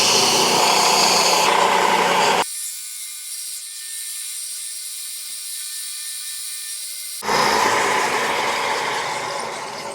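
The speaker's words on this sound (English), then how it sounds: "Now we're heading over here to the belt sander and we're gonna finish shaping it." A belt sander shapes a piece of black walnut wood, with a loud, steady grinding whir that drops to a quieter motor hum for several seconds before the abrasive contact resumes at full loudness.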